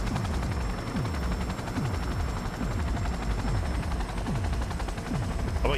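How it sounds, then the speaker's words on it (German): A helicopter in the video game Cyberpunk 2077 makes a loud, continuous rotor thrum with a steady repeating beat. The beat holds for several seconds and no voices are heard. "Warte, bis der Hubschrauber landet."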